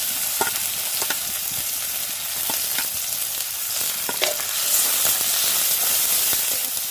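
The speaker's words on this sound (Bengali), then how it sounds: "আর কাঁচা লঙ্কাটা সুন্দর করে আমি ভেজে নিচ্ছি।" Onion, garlic and green chillies fry in a pan with a steady close sizzle, broken by regular scraping clicks as the spatula stirs them.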